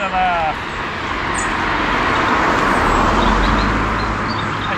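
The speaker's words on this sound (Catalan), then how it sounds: "Per cert, els cotxes passen molt a prop, tots" Road traffic rushes by a cyclist on the road, a steady close whoosh of passing cars swelling and fading, with a chirpy tonal squeal at the start.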